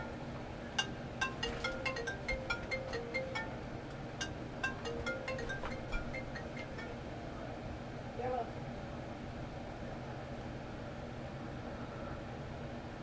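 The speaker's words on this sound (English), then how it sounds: "sorry about that phone ringing" A phone rings in a quick repeating electronic pattern, fairly faint, over a low steady hum, then stops; a brief voice-like blip follows.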